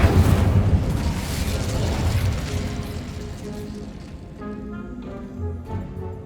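Incendio fire spell from the video game Hogwarts Legacy: a loud, rumbling fiery burst that roars at first and then slowly fades out over several seconds, with no talking.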